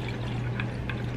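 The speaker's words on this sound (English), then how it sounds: "Pouring the water." Water pours steadily into a pot for soup in a home kitchen, a soft continuous splashing stream with slight bubbly pulses, close and moderately quiet.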